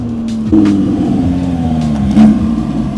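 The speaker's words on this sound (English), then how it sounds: "Josh picked up this beautiful 2020 R8 as well. Sounds like he's done with the 4-cylinder life" A 2020 Audi R8 revs nearby, with a throaty engine note that rises and falls through a couple of sharp throttle blips over a steady idle.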